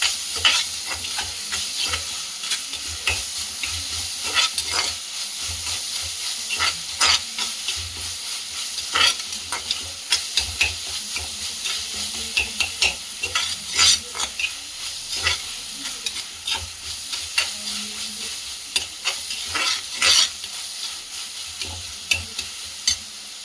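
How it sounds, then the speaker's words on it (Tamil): Onions and tomatoes sautéing in a pan with salt, a continuous close sizzle broken by repeated scraping stirs and spatula knocks, with no talking. "தக்காளி வெங்காயம் நல்லா வதங்கி வந்துடுச்சு."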